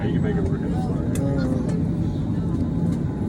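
Steady low engine drone fills the cabin of a packed passenger plane in flight, constant and loud throughout with faint voices murmuring underneath.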